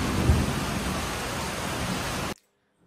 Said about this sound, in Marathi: आणि ढगांचा आवाज येतोय.